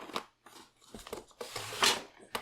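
Scissors snipping through patterned craft paper in a few quick, close cuts with short pauses between them, crisp and unaccompanied by talk.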